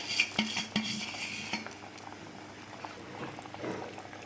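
A spoon stirs semiya kesari in a metal pot, with a few sharp clinks against the rim at first, then softer scraping and a faint bubbling simmer, close by and with no talking.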